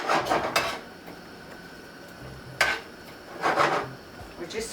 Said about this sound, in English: We're just sauteing this.